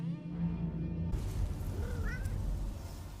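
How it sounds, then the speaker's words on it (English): Loth cats from Star Wars Ahsoka let out a couple of brief, high meows over a steady hum of background soundtrack, with no voices present. "They're spending a lot of time with the Loth cats."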